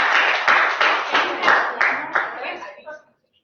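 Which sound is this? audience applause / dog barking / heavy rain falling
audience applause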